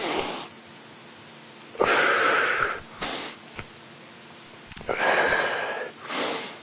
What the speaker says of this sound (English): Instead of arms straight up, we're going to bring them out in a circle and drop. Inhale.